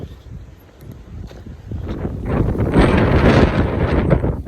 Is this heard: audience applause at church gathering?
no